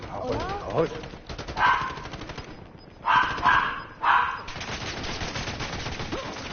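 Automatic gunfire from Call of Duty: Modern Warfare, with bursts of rapid shots rising and falling over several seconds amid a busy battle mix, alongside shouted voices.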